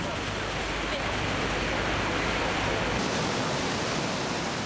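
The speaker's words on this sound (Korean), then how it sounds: "하지만 밀려오는 폭포수로 배가 앞으로 나가지 못합니다." Roar of Niagara Falls from a boat pushed back just below the cascade, a broad, steady rushing wash of falling water that fills the whole clip at constant loudness, with a low rumble that drops away partway through.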